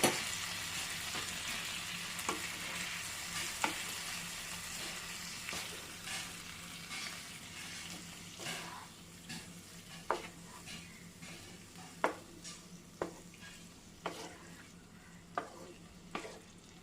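Boiled yam pieces and their cooking water being stirred into a frying curry, a soft steady sizzle with a series of regular spoon scrapes and taps against the pan, no talk.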